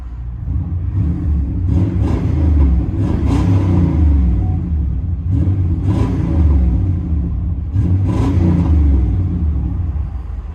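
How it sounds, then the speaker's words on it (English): From inside the cab of a 1998 GMC Sierra 1500 Z/71 with a 5.7L V8 and true dual Flowmaster Super 44 exhaust, a deep rumbling idle swells into several throaty revs, loud and close. "GMC Sierra 1500 true dual with FLOWMASTER 44 and 4-inch tips"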